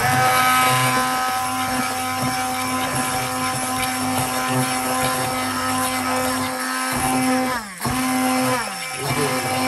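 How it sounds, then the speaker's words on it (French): A hand blender whirs steadily through a pot of autumn olive (elaeagnus) jam, a continuous loud motor drone with a brief dip and restart near the end, no talking. "comme ça n'écrase pas très bien, je mets un coup de mixeur dedans"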